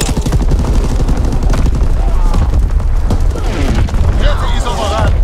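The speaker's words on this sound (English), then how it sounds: "Incoming enemy artillery! Get to cover!" Booms of incoming enemy artillery crash amid rattling gunfire in a Call of Duty WWII multiplayer battle, a dense, loud, continuous barrage with voices shouting through it.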